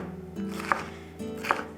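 A kitchen knife chopping bell pepper and onion into small cubes, heard as two distinct, moderately loud chops about a second apart over a low background hum.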